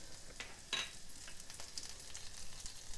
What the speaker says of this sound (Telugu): ఇవి చక్కగా వేగనివ్వాలి. తక్కువ మంట మీద వేగనివ్వాలి.